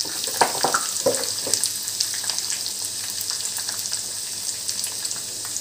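A fenugreek powder and onion tempering for curd rice sizzles in hot oil with a steady close crackle and a few louder pops early on that then settle into an even fizz.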